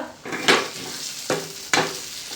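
A ginger, garlic, coconut and onion paste frying in oil in a pan, a soft continuous sizzle broken by three scraping ladle strokes as it is stirred, close by with no voices.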